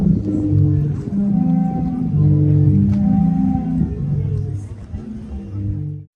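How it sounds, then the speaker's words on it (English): Sea organ on the Adriatic seafront, waves pushing air through stone pipes to make shifting, overlapping tonal hoots and chords that swell and fade continuously. "The waves push air through these pipes, creating melodies and sounds that change with the motion of the waves."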